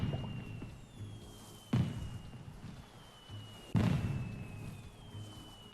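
Fireworks bursting in the night sky in the video game Animal Crossing: New Horizons, two soft booming pops a couple of seconds apart over a low, steady ambient bed with faint whistling tones.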